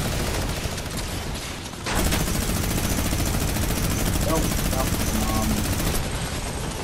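Rapid automatic gunfire in the Fortnite battle royale, a dense continuous barrage of shots filling the whole stretch, loud and close, with a player's brief word over it.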